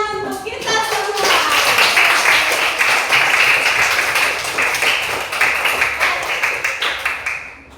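A classroom of children claps together for several seconds, a dense burst of applause that settles into a few rhythmic claps before fading, following a teacher's spoken prompt.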